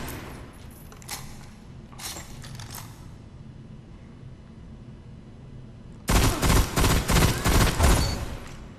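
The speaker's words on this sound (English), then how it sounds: "Now, let's have the proper test with this pulse rifle." A pulse rifle fires in the Destiny video game, with a few scattered earlier shots and then a loud, rapid sequence of repeated bursts in the final seconds, with no talk over it.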